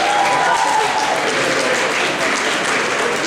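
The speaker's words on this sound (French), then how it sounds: "Applaudissez-le, ça lui demande un effort surhumain de faire ça." Audience at a cosplay contest applauding in a steady, dense wash of clapping that holds for a few seconds, loud and close, with a faint voice briefly audible near the start.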